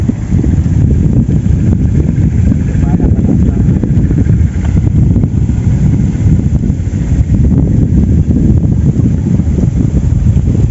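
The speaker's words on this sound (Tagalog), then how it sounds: "Lakas na hangin, lamig dito." Strong cold wind blows continuously at an outdoor carp fishing spot by the water, a loud, steady low roar buffeting the microphone throughout.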